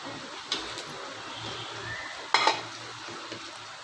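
Vegetable pakoda fries in oil in a pan under a low, steady sizzle, with a couple of sharp metallic scrapes and clinks as the pieces are turned over, close by with no talking.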